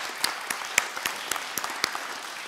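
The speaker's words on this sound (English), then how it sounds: "I think we give them a round of applause." Scattered clapping from a church congregation at a Mothering Sunday service, a handful of distinct, fairly soft claps spread unevenly over a faint room hiss rather than a dense ovation.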